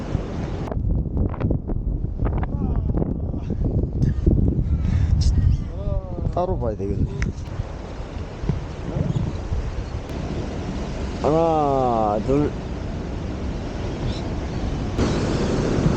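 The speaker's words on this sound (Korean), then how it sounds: "절벽에 바위가 파도도 많이 치고 오늘 바람이 많이 부니까" Strong wind buffets the microphone while waves crash against a rocky cliff on the Sydney coast, a continuous loud roar with people talking over it throughout.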